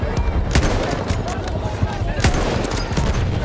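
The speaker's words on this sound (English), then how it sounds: "Oh shit, they're still firing at me." Enemy gunfire in Battlefield 1 comes as dense, loud bursts of rifle and machine-gun shots, with rapid overlapping cracks and distant booms sustained across the whole stretch.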